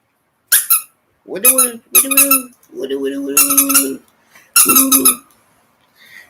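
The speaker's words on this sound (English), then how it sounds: "I got a squeaky." A squeaky dog toy squeaks in several short bursts and one longer, drawn-out squeeze, loud and close, with brief pauses between squeaks.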